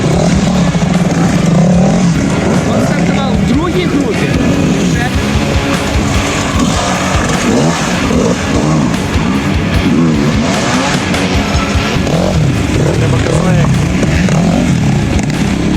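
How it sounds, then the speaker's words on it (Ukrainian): Yamaha motorcycles race at a cross-country event in Zhytomyr, engines roaring and revving continuously at close range, with people talking and shouting over the noise. "Ямани на мотоциклах."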